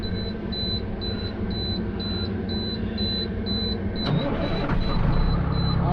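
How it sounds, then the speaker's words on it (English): A big rig truck's engine cold-starts at 75 degrees, cranking and catching into a loud, steady rumble, while a regular warning beep repeats in the cab throughout. "let's go ahead and do a 75-degree cold start."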